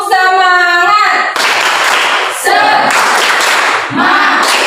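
A group claps a rhythmic cheer pattern together, loud and close, mixed with voices calling out in unison and a singing voice at the start.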